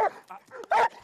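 A police canine unit's working dog barks in sharp, repeated bursts at close range, the loudest bark near the end, with voices and street bustle mixed underneath.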